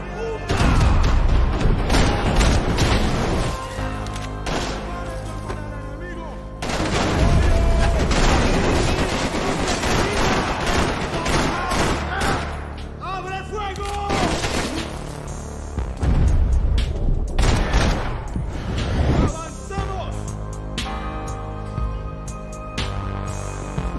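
Heavy gunfire in Max Payne 3, dense bursts of shots and booming impacts layered with shouting voices and crashing debris, loud and nearly continuous with a couple of brief drops in intensity.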